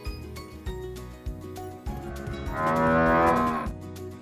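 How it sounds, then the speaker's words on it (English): A cow gives one long, loud low moo that swells in the middle, set against bouncy children's music with a steady beat. "Cow."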